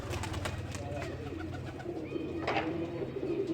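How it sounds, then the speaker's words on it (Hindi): Pigeons cooing softly at a rooftop loft, several birds calling in overlapping low coos, fairly close against faint background noise, with no talking. "कबूतर आए हैं नीचे"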